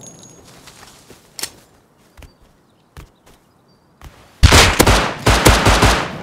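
Gunfire from the survival game Rust: scattered single shots and footsteps early on, then a loud, close burst of rapid automatic fire that runs to the end.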